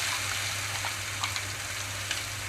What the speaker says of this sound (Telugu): ఇక్కడ కొబ్బరి పాలకూర పేస్ట్ని తాలింపులోకి వేసేస్తున్నాను